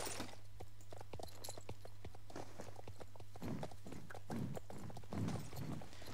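Video-game horse hooves clip-clop in a steady, even rhythm, the crisp hoofbeats close and moderately loud over a low constant hum, with no speech.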